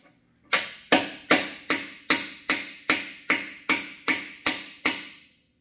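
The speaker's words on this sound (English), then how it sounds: "And we'll come in with an old bushing. And give it a tap." A hammer taps an old bushing into a Pistenbully 400 snow groomer axle in twelve sharp, evenly spaced metallic strikes, close and loud, each ringing briefly before the next, with no voices.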